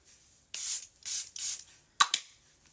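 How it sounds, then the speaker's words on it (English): Makeup setting spray hisses from a pump bottle in three quick bursts, followed by a couple of sharp clicks and a final short spritz, close and fairly loud with no talking. "I'm grabbing setting spray because I didn't put on primer."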